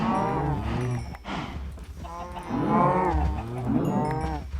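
Cows lowing in the Minecraft video game: several loud, drawn-out moos with no pause between them, close and clear, with no talking over them.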